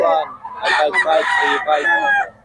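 A rooster crows once, close and loud, in a long drawn-out call that rises and then trails away.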